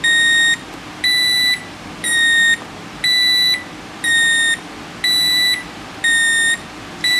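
A Sunbeam 887-05 alarm clock beeper sounds in a steady pattern of about eight loud, high electronic beep bursts, each roughly half a second long with short gaps, close up and alone.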